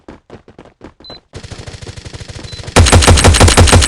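Rapid automatic gunfire in the Forward Assault shooter game, starting after a few separate shots and growing into a loud, dense burst of machine-gun fire.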